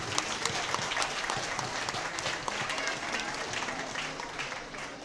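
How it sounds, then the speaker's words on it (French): Steady, dense applause from a gathered audience at an association presentation, loud and continuous throughout with a busy crowd texture and faint voices underneath. "on peut l'applaudir pour sa belle prestation qu'elle a faite"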